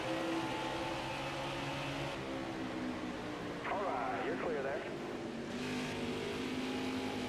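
NASCAR Heat 5 stock cars at Iowa in a video game, a steady engine drone with a car swelling past midway, under continuous commentary talk.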